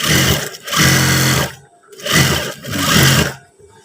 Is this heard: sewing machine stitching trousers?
yes